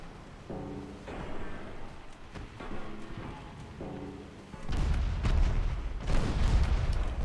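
Warship turret guns firing during a naval battle in an Imperial Austrian campaign of a strategy game, delivering a series of loud, deep booms that grow heavier and denser toward the end, with no voices over them.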